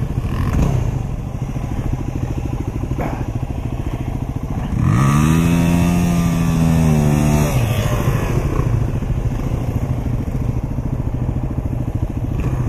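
A Honda motorcycle engine climbs a hill on a trail in Fairbanks, Alaska, a close continuous rumble that rises into a strong revving surge midway, then settles back into a steady drone with clattering over it.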